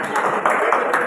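A brief burst of audience clapping at a Haryana literary award ceremony, with a crowd of hands patting steadily at moderate loudness.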